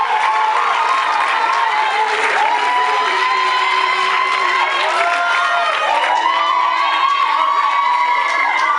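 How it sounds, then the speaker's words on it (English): Crowd at a sports, arts and culture awards ceremony applauds and cheers steadily, with whoops and children's shouts woven through the dense, continuous clapping. "Can you please give them a round of applause as they take the award?"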